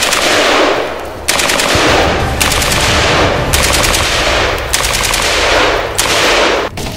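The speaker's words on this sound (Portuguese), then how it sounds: "Fogo inimigo!" Loud, sustained bursts of enemy automatic gunfire rattle without pause, broken into several long volleys by brief gaps.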